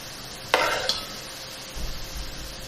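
Browned onions fry in a pan for chana pulao with a low, steady sizzle, broken by two quick spoon scrapes early on and a soft rumbling stir near the end.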